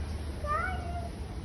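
A kitten gives a single short meow, fairly close and clear, over a low steady background hum with no talk.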